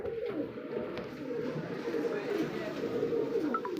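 Pigeons coo steadily at a Bangladeshi pigeon house, a soft low continuous murmuring that runs close and fairly loud throughout, with faint background noise.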